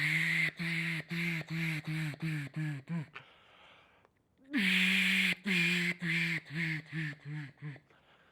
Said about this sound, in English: the hail call sounds like this